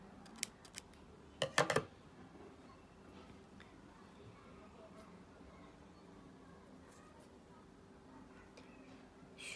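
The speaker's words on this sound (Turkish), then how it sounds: "Şimdi ipimi kesiyorum." Small scissors snip thread during Turkish needle lace work, giving a couple of quick close cuts early on before a long quiet stretch with faint ticks.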